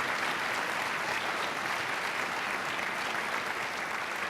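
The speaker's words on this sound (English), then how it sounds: "Let's give those sponsors a round of applause." A gala audience gives a sustained, even round of applause for sponsors, dense clapping from a large crowd heard throughout with no break.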